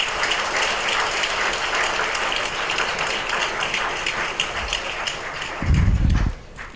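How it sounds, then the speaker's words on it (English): Steady round of audience applause in a hall, dense even clapping throughout, with a brief low thumping near the end. "Let us thank our expert with a round of applause."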